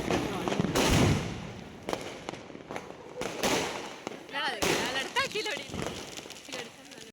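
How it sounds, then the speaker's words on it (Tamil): Diwali firecrackers going off outdoors, with a series of sharp bangs and crackling bursts at irregular intervals, some close and loud, and a whistling rocket-like shriek, while people talk throughout. "நாங்களும் எல்லா வெடியும் வெடிச்சிட்டோங்க"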